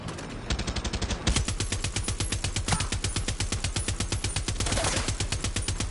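A mounted cannon in Far Cry 6 fires a rapid, steady stream of loud, close shots that hammer on without a break for several seconds.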